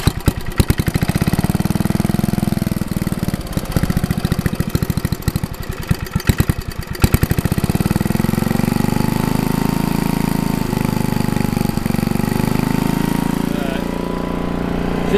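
A 1959 Lickity log splitter's small engine sputters through uneven, stuttering firing for several seconds, then settles into a steady, loud running idle close by.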